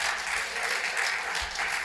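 Audience at a Tucson town hall with Congressman Juan Ciscomani applauding steadily, a dense, even wash of clapping that holds at a constant level for the full two seconds with no voices over it.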